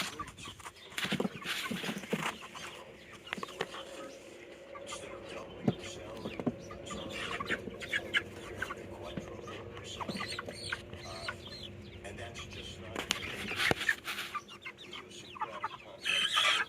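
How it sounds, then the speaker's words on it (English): Chickens cluck softly and intermittently close by inside a chicken tractor coop, with scattered rustling and bumps and occasional quiet talk in the background. "we're putting our first chickens in here"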